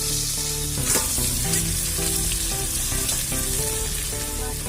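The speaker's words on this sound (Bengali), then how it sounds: "মাছটা এত ফুটছে" Pangas fish fries in bubbling oil, likely under a lid: a loud, dense, continuous sizzle with steady popping crackles throughout, close and with no voices.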